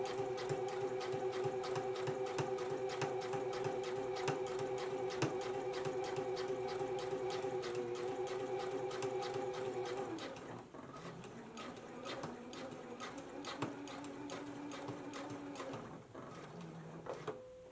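Sewing machine running a seam on a McCall's 7330 jumpsuit, a steady tonal hum with fast needle ticks for about ten seconds, then a slower, lighter pass with changing pitch, fairly quiet.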